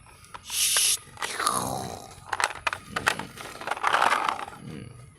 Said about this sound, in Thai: เราตักดิน